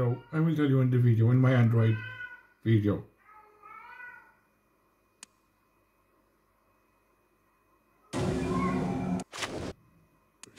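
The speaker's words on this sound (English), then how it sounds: "sorry about my cat, yo. But she's going nuts." A pet cat yowls loudly in short bursts near the microphone, following someone talking over a Mortal Kombat Mobile game.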